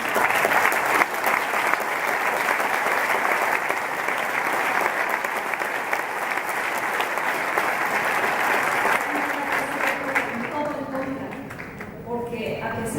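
Conference audience applauding in a long, even burst of dense clapping that fades toward the end, when a voice begins speaking over it.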